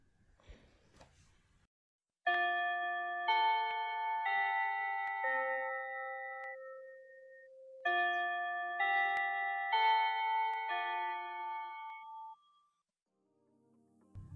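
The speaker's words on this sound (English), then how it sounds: "That bell means we've reached the end of today's episode." A chiming bell melody marking the end of a podcast episode rings out clearly on its own, in two sustained phrases of overlapping tones that fade away.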